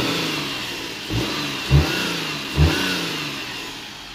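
A Perodua Viva engine runs with a fault in the belt area, a steady close engine drone with a couple of short revving surges and a raspy belt noise over it, with no talking.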